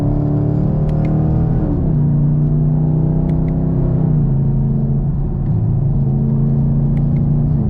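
A Camaro SS in track mode gives a loud, steady engine drone from inside the cabin, the pitch stepping down and rising again as gears shift through the paddle shifters, with no talking.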